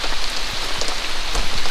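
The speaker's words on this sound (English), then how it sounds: "It's just steady rain." Steady rain falls on a soaked campsite, with a dense, even hiss and scattered drips and pattering hits close by. No voices are heard.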